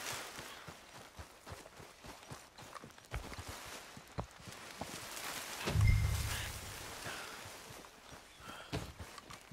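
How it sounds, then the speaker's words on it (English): Horse hooves clip-clop at a steady walking pace in the video game Red Dead Redemption 2, close and clear, with a heavier thump partway through. "What's got this horse spooked, huh?"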